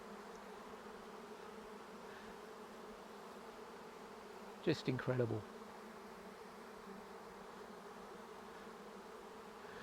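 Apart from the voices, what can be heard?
swarm of honey bees clustering in a tree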